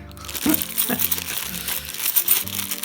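Plastic coin bags of 50p pieces are handled, producing repeated crinkling and crunching rustles at uneven intervals, close and fairly loud, with some speech mixed in.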